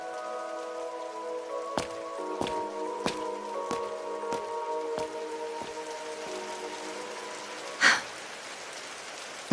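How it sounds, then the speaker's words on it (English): Rain in Trails Through Daybreak falls steadily with soft patter and drips under sustained musical tones, ending in a sharp splash-like burst near the end. "Why'd it have to rain?"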